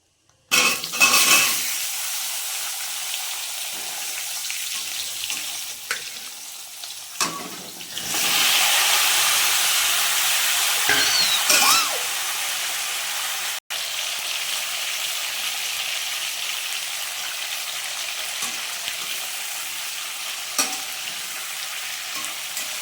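Drumstick and potato curry fries and sizzles in a pan with a steady hiss throughout, punctuated by occasional stirring scrapes and clinks of a utensil against the pan, close and fairly loud, with no speech.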